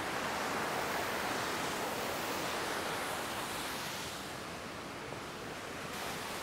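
A steady, unbroken roar of rushing water from a waterfall, loud and continuous throughout with no voices.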